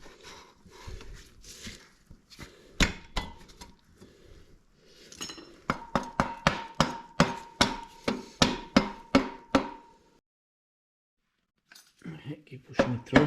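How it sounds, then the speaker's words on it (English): On a Yamaha Super Ténéré motorcycle, the rear axle is slid and pushed through the wheel hub during a wheel bearing replacement. Scattered metallic clinks build into a run of rhythmic knocks, then a brief silence before more clatter. "to do that we slide the rear axle through."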